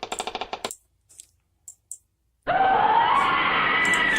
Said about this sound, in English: Doors creaking.